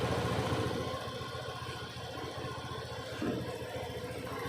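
A Honda Scoopy ESP scooter's small engine idles steadily after starting, a quiet, even mid-pitched putter with a faint vibration and no voices.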